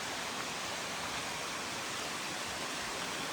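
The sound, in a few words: stream water source beside hiking trail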